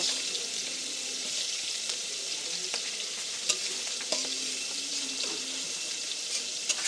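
Pointed gourd being fried in a pan for a Bengali dopiaza, a soft steady sizzle with occasional scraping clicks of a spatula stirring, fairly quiet and continuous.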